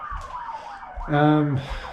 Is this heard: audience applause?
no